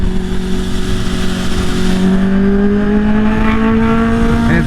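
A loud supercharged Kawasaki H2 motorcycle engine drones steadily and climbs gradually in pitch as it accelerates, with a whooshing, blower-like whine over the exhaust.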